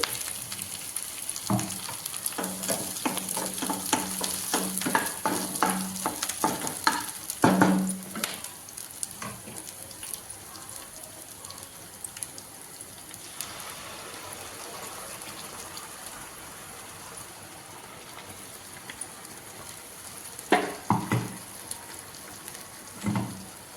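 Onion and tomato paste frying in oil for a chicken curry, a steady soft sizzle broken by scraping stirs and clinks of a spoon against the pan, busiest early on and again near the end.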